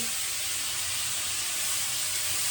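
Potato and onion stalks fry in hot oil, giving a steady, close sizzling hiss with no talk.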